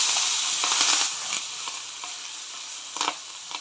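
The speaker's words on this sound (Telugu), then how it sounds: "కొంచెం కరివేపాకు, జింజర్ గార్లిక్ పేస్ట్ వేసేసుకొని కొంచెం ఇప్పుడు ఆయిల్లో సాట్ చేసేసుకుందాం" Curry leaves and ginger garlic paste sauté in hot oil for a tindora (ivy gourd) fry. A bright, loud sizzle fades slightly after the first second, with scattered pops and crackles and a sharper spatter near the end.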